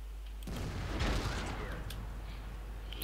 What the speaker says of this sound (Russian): он фугасами лупит